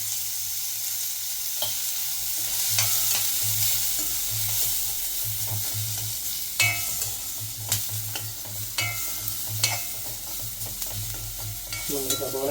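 Onions and chakka frying in a pan, with a steady sizzle and repeated scraping strokes of a stirring spoon; no talk.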